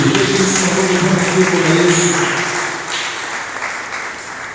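Church congregation applauding during a Sunday service, a loud continuous wash of clapping in a reverberant hall with a low sustained musical tone underneath, tapering off toward the end.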